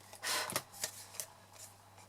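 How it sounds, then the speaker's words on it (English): Scissors trim along the edge of coloured card in several quick, crisp snips and a longer cutting swish, close up and alone with no talking. "get your scissors, and then just literally go along that coloured card and just trim it"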